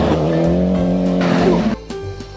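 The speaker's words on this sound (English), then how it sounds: "A rally car." A toy rally car sound effect: a loud, close engine-and-tire-squeal burst with a rising, whining tone that cuts off abruptly, followed by a lower, quieter rumble.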